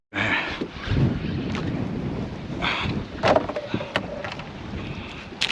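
A motorboat runs over water with wind buffeting the microphone, engine noise mixed with splashing and gusts throughout.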